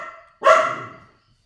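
A pet dog named Darcy gives one sharp, loud bark up close in a quiet room, with a short fading tail and no talk over it.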